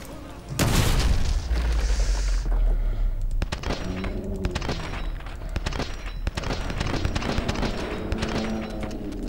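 A loud explosion in Call of Duty: Modern Warfare 2 Remastered, during a hostage rescue mission, bursts suddenly, followed by a rumbling tail and bursts of rapid gunfire as the action continues.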